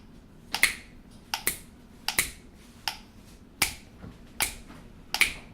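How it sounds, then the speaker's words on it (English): Crisp finger snaps repeat in a steady rhythmic pattern, some in quick pairs, close and clear against a quiet background. "Do you hear that? That's the beat. You remember that snapping pattern?"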